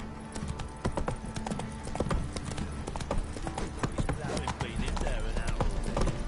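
Steady clip-clop of horse hooves at a trotting rhythm, with jingling tack and a busy background bed of ambient sound, from a horse in the video game The Witcher 3: Wild Hunt.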